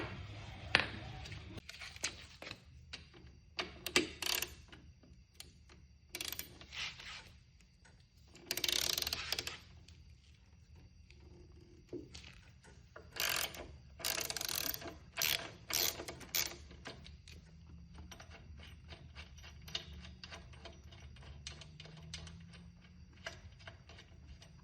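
Socket ratchet working a shock bracket bolt on a 2016 Harley Ultra Limited Classic, close bursts of rapid clicking ratchet strokes separated by quiet gaps, with handling clatter in between.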